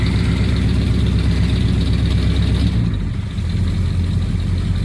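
A 1963 Plymouth Belvedere with a rebuilt carburetor idles close by, a loud, steady, low rumble with a slight dip in the middle.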